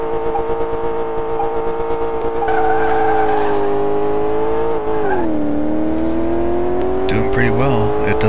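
A Chrysler 300 driven in Car Mechanic Simulator 2018 gives off a steady, loud engine drone at a fairly constant pitch that dips and rises slightly, with tire noise and brief squeal-like tones near the end.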